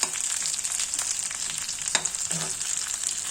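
Green and dried chillies fry with browned onions in a pan for a spicy puri sabji. The sizzle is a steady close hiss, and a few scraping stirs cut in along the way, with no voices.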